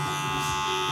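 Electric hair clippers cut a short fade on curly hair, the 1 guard being closed before working lower; a steady close buzz runs unbroken throughout with no talk.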